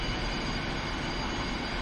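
Su-25 jet engine running on the ground in a flight simulator, a loud, steady roar with a high whine, unbroken throughout.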